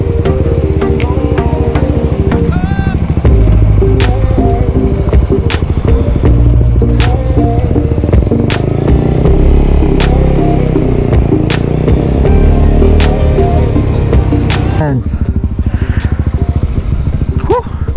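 Motorcycles riding on a road in North Antique between Barbaza and Pandan, engines droning and revving steadily up close for a long stretch, with wind noise and some clatter.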